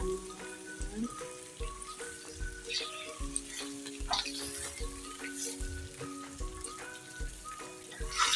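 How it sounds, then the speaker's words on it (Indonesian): Chicken sautéing in a pan for green-chili ayam lado mudo gives a soft, steady sizzle with light stirring knocks, quiet and partly under a background melody. "Tumis ayamnya."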